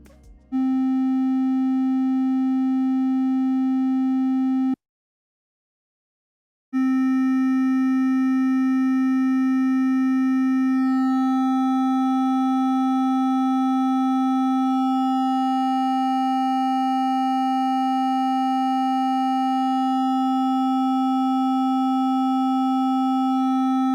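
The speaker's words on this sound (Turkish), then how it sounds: "Triangle yani üçgen. Yumuşak bas tonları için ve flüt sesleri için daha elverişli oluyor." A steady, pure triangle-wave tone from a microKORG synthesizer's first oscillator holds a single low pitch, cuts out briefly for about two seconds, then returns and sustains, loud and alone.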